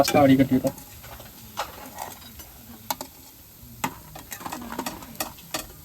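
Soya 65 chunks frying in hot oil, village-style cooking, with a loud burst of sizzling at first that settles into steady crackling and popping, with people talking over it.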